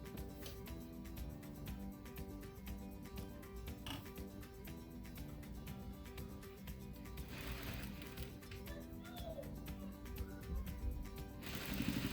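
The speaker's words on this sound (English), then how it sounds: "And then we're going to sew this." Sewing machine stitching seams on pieces of a swimsuit, a steady rapid mechanical whirring that runs nearly unbroken, close and moderately loud, with a brief pause near the end.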